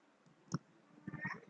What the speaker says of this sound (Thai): ทีนี้เนี่ยก็ทำการคลิกค้างแล้วก็ลากไปเลย